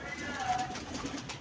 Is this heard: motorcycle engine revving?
no